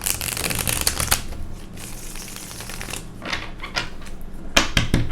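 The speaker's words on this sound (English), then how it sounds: "one more shuffle here." Tarot cards being shuffled by hand in rapid riffling bursts, close and crisp, with a short pause midway before the shuffling resumes and ends in a few sharp snaps.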